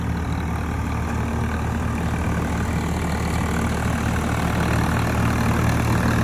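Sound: Swaraj 855 tractor engine idling

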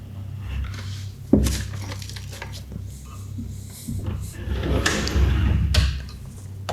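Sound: drawers being opened and closed in a house

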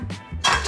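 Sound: cracking eggs on a chopping board

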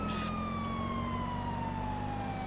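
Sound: police car siren in video game GTA V

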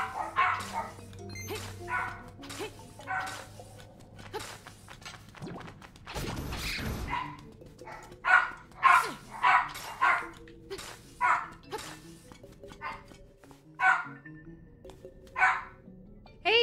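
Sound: puppies barking in video game Zelda: Link's Awakening

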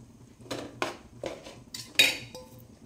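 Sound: stirring curry and drumstick leaves in a pot of ghee

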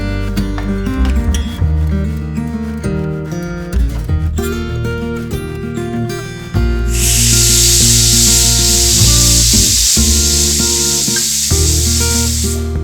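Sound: pressure cooker releasing steam

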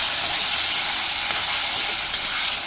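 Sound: tamarind chutney stirred in hot oil, sizzling

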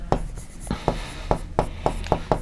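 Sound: writing numbers on a board

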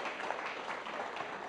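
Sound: audience applause for volunteer Chris

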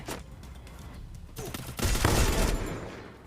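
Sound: gunfire in the video game Free Fire

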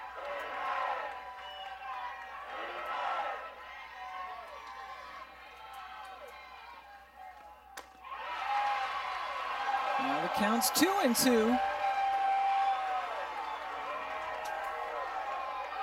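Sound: softball game crowd cheering and reacting

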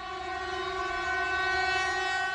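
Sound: memorial train passing and blaring its horn

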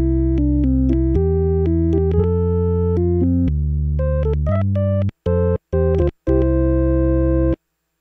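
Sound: Hammond XK5 organ Farfisa bass 16 foot tone, no effects

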